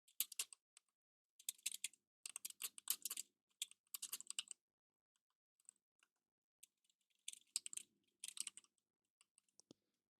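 Code typed on a computer keyboard in quick bursts of clicky keystrokes separated by pauses, close and fairly quiet, with no talking.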